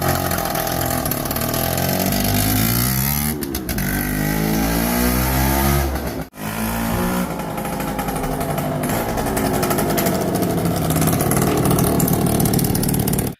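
A 1979 Yamaha L2 motorcycle engine runs loudly and steadily up close, with rising and falling revs and a brief dip in the middle.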